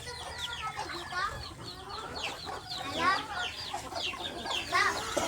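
Busy poultry yard with turkeys and chickens clucking and calling over one another, a steady chorus of overlapping bird sounds close by.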